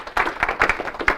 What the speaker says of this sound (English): That is something to clap out